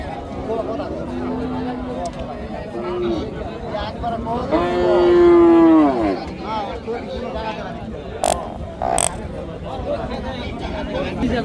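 Bullocks at a border-area cattle market give a single drawn-out low moo that rises above a steady hubbub of crowd chatter and nearby voices.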